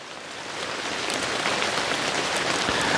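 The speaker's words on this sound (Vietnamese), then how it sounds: "À, ở ngoài trời mưa cái nó lập đọp." Steady rain patters outdoors in a vegetable garden, a dense, continuous hiss of drops on surfaces that swells slightly louder after the first half second, with no talking.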